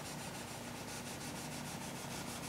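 Steady rubbing of a cloth over the metal strings of an acoustic guitar with light pressure, a continuous soft scrubbing hiss with faint rhythmic swipes, close and alone.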